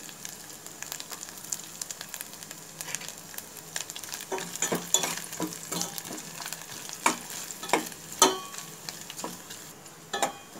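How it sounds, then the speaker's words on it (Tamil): Coconut, cashews and raisins sautéed in ghee for payasam, a soft steady sizzle with repeated spoon scrapes and taps against the pan that grow busier, no voices. "தேங்காய் கொஞ்சம் லைட் ப்ரௌன் ஆகட்டும், அது வரைக்கும் கொஞ்சம் வதக்கிக்கலாம்"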